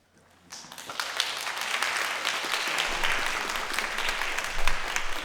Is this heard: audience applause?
yes